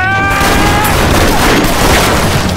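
Gunfire sound effects in a radio drama: a loud, dense burst of shots and booms that blur into a continuous roar, with a high whine fading early on.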